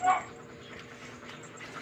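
A dog whimpers and yips while playing with a cat: a short, sharp yelp at the start, then low, thin whining. Voices murmur faintly in the background.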